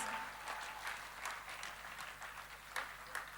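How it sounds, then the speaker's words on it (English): Audience applause at an ASEAN Day celebration, a steady patter of many hands clapping in a large hall, moderately distant with a few sharper claps standing out. "Another round of applause, please."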